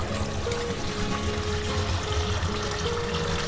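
Water pouring steadily over pieces of shark fish being washed, a continuous close trickling splash with a low rumble beneath, no voices.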